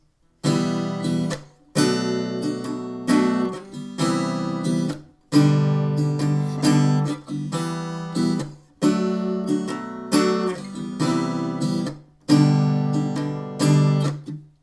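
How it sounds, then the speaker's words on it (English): An acoustic guitar strums chords in rhythmic bursts, each phrase ending in a short muted gap, played close and clear with no voices. "the lead guitar starts strumming the same chords you were using to pick."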